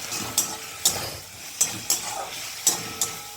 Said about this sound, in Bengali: একটু জল দিয়ে মশলাটা কষিয়ে নেব